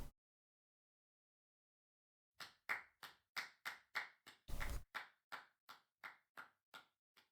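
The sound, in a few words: clapping sound effect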